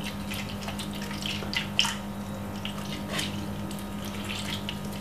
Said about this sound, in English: just pour a little water, because the juice need a little bit of liquid around it